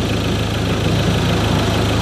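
A rebuilt car engine with four new pistons, new rings and rebored cylinders idles smoothly and steadily, a loud, close, even hum with a faint regular pulse and no voices.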